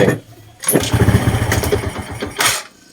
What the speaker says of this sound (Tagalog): Kapag pinapaandar natin, pag kick, ayaw yung mag-start